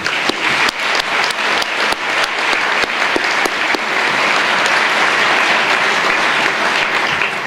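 Audience at a school speech day at Queen Ethelburga's College applauding a Year 11 prize winner, a dense sustained round of clapping that starts with a few sharp claps and swells to a steady, loud roar without any voices.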